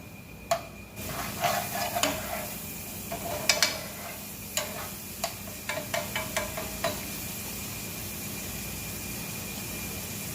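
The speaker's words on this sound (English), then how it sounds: "Saute this up." Vegetables sautéing in a pan, heard as a low steady sizzle under a run of sharp, ringing spoon clicks and taps against the pan, close and without speech.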